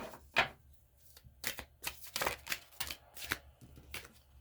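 Osho Zen tarot cards being shuffled by hand, a run of crisp riffling and slapping bursts in an uneven rhythm, close and fairly quiet, with no talking.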